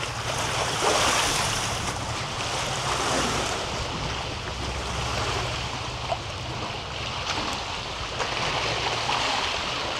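Water washes steadily against the shore of Lake Trasimeno near Perugia, Italy, a continuous rushing surge mixed with wind noise on the microphone, close and fairly loud with no talking.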